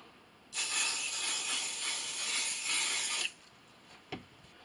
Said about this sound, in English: I'm going to take my spray base again and spray my Insulbright.